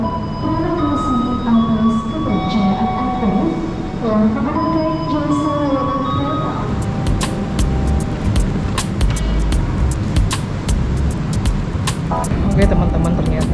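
Boarding a luxury sleeper train for the Jakarta to Surabaya run: a steady platform rumble with sharp clicks and knocks from the carriages, heard under a person talking for the first half.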